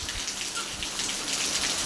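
Steady rain falling, a dense continuous patter of drops close by, with no talking.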